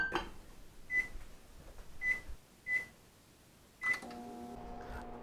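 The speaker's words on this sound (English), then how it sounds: "You got to go over to the microwave and stick that in for 30 seconds." A kitchen microwave oven set for a short heating run, heard as a quiet room tone with four short high electronic beeps spaced about a second apart, then a steady low hum as the oven starts.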